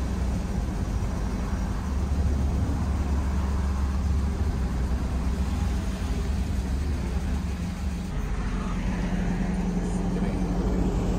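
Slow-moving road traffic climbing toward Los Planes de Renderos on New Year's Day gives a steady, close engine and road rumble from inside a car, with a light broadband hiss and no clear distinct events.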